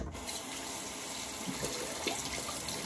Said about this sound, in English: Razor's rinsing really well.